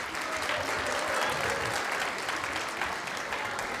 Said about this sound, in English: let's have one more applause for the Bhaktivedanta players.